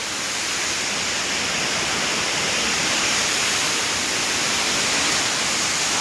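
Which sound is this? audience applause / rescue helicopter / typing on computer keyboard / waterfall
waterfall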